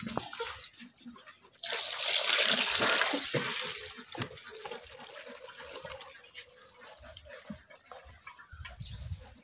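Water, about five litres, is poured into a salted cattle fattening feed mix in a sudden splashing gush that fades into a trickle, with a rooster and farmyard sounds faintly behind.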